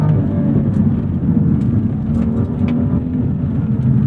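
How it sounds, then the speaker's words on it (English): A BMW accelerates hard from inside the cabin with quick up- and downshifts, its engine a loud, steady droning roar that holds throughout with no voices. "Quick up shifts, quick downshifts."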